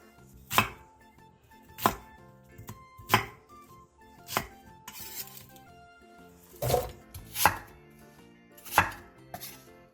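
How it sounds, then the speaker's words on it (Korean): A knife chopping radish, onion and apple into big chunks on a cutting board, sharp separate thuds at a steady, unhurried pace, close by and with no talking. "무 3cm 두께 한 토막, 양파 1개, 사과 4분의 1개를 갈기 좋은 크기로 큼직하게 잘라주세요."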